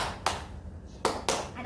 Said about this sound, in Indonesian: ketika Miss Ocha bilang tepuk 2